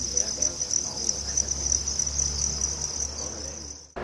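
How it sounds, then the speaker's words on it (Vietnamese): Farmed field crickets chirping in a dense, steady high trill, close and continuous until it cuts off near the end. "Dế mèn hiện được một số nông dân nuôi để bán lẻ cho người dân dùng làm mồi câu cá."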